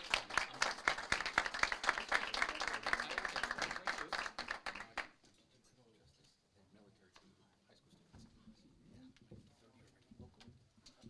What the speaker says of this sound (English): Can we give it up once again for our deputy of the quarter and his entire team in our police department, please? A big round of applause for them.